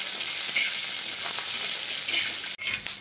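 Peanuts and chillies roasting in a pan make a steady, close hiss and sizzle, with faint stirring scrapes and a brief break near the end.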